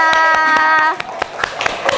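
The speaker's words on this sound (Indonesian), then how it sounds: "Beri tepuk tangan untuk kelompok 3." A classroom group claps for group 3, with scattered hand claps under a sustained tone at first, then irregular, uneven claps that thin out toward the end.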